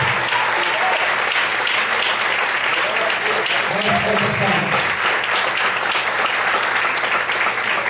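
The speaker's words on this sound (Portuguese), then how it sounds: "Vamos poder aplaudir e exaltar a Deus nesse noite." Sustained, dense applause from a church congregation during an evening service fills the whole stretch at steady loudness, with voices mixed in beneath the clapping.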